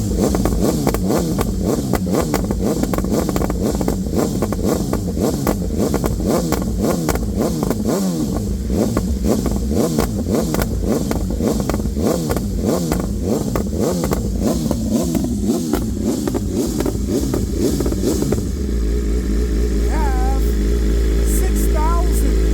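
A warmed-up motorcycle engine from a high-end collection runs loud and steady at close range, with repeated revs swelling and falling before settling into a smooth idle near the end.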